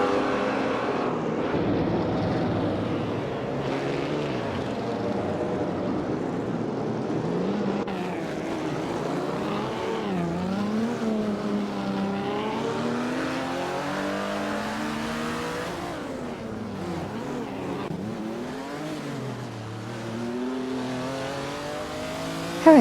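Racing car engines roar and rev continuously during an AI-driven video game race that includes a 1937 Alfa Romeo 12C, rising and falling pitch as cars accelerate and shift, steady and fairly loud without talk.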